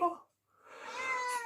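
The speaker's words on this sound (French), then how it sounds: "Désolé pour le chat, c'est un pète-oreille celui-là" A house cat meows at close range, one short cry followed by a pause and then a longer drawn-out yowl that swells in loudness.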